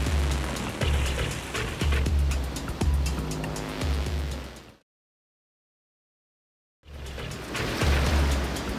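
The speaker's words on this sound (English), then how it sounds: "intense rain crashing into his face like bullets from the sky" Heavy, driving hurricane rain roars steadily with thumping gusts, loud and close, then cuts to silence for about two seconds before the downpour resumes.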